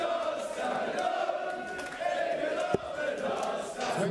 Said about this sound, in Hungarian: Megjön a közönség hangja is.